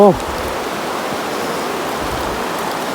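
Rain falling steadily in a forest during a trip to check rat traps, a continuous close hiss of drops that holds evenly throughout, with a brief voice-like sound at the very start.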